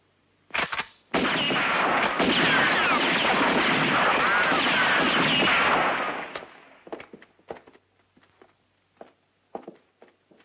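Gunfire aimed at a door lock in a western film: a single sharp shot, then about five seconds of loud, continuous blasting that cuts off into a scatter of scattered pops and clatters.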